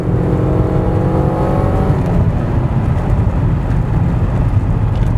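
A 1998 Ford Contour accelerates while driving, heard from inside as a loud, steady engine and road roar with a faint rising whine, no talking.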